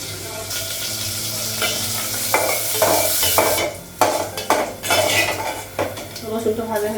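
Green chili and garlic fry with panch phoron in a home kitchen pan, a steady close sizzle running throughout, broken by loud metal clatter and scraping as a utensil stirs against the pan.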